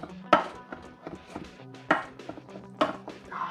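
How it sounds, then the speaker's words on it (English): A knife chopping ingredients on a cutting board for a pasta sauce, a few sharp, separate thunks at an uneven pace with quiet kitchen clatter between them, close and clear with no talking. "I'm just gonna take my knife and just chop this up"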